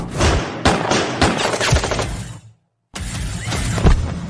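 Several loud, sharp gunshots fire in quick succession. The shots stop in a brief silence, then a harsh, noisy burst follows.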